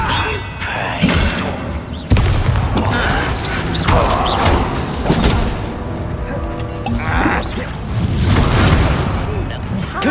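Expelliarmus spell effects in the Hogwarts Legacy video game, loud and dense with repeated booming blasts and mechanical clatter in a continuous combat mix, with character voices shouting over it.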